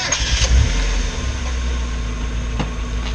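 A Mazda Miata engine cranks and catches with a loud, short starter burst, then settles into a steady near idle with a faint rev partway through, heard alone.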